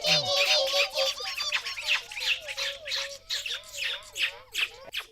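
A voice imitates a small bird's loud chirping in a classroom setting, producing a rapid, continuous string of high squeaky chee-chee calls, close and bright, without pause for about five seconds.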